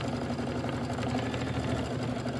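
A sewing machine stitches background quilting on a Christmas wall-hanging quilt block, giving a steady, even mechanical hum with a fast, faint motor rattle that runs unbroken and close by.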